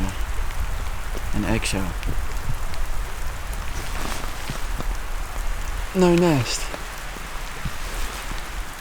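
Steady pouring rain drums on surfaces around a wild camping spot in wet walking country, a constant close hiss through the whole stretch, while a person speaks briefly over it.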